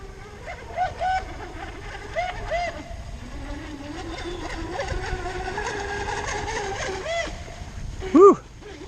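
A small RC boat, a TFL Genesis running on 6s, skims across choppy water, its motor whine rising and falling with a splash near the end, while a person talks intermittently.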